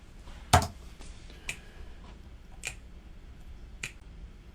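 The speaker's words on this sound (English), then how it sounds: "So we just got some finger snaps." Finger snaps recorded live into a mic: four crisp, isolated snaps spaced about a second apart. The first is loudest, the rest softer, over low room hiss.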